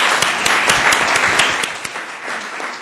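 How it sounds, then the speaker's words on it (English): An audience at a city council meeting applauds in a dense, loud burst of many hands clapping, holding steady for a few seconds before starting to thin out. "Let's give them a big round of applause."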